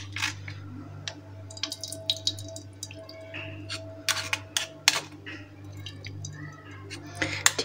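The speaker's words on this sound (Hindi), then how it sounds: "इसमें इसका पानी निकाल लेंगे अच्छी तरह" Grated potato and tomato are squeezed by hand to press out their juice, giving wet squishing and dripping with scattered sharp clicks over a steady low hum, close and moderately loud.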